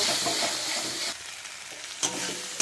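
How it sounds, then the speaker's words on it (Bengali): Spice masala for potol kofta, loosened with a splash of water, is stir-fried in a pan, making a loud hissing sizzle with scraping strokes that briefly quiets, then flares with a sharp burst near the end. "জল দিয়ে মশলাটাকে ভালো করে কষিয়ে নেব"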